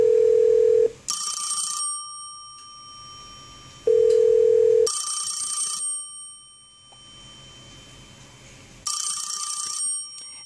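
Vintage 1A2 key system telephones with a Call Director set, rung through the all-call group of a Magix phone system, ring loudly in three bursts. Each burst opens with a low tone and then a bright electronic warble, with quiet gaps between.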